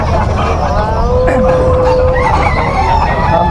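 Roosters crow loudly at a busy chicken market, one long clear crow rising over constant clucking and squawking from many birds nearby.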